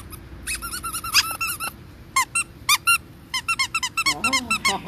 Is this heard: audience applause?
no